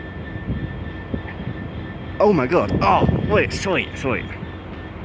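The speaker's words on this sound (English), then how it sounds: "plane just took off. Oh, that was good timing. There she goes. Took off from Southampton Airport." A small passenger plane takes off from Southampton Airport, heard as a steady distant engine roar beneath excited nearby speech throughout.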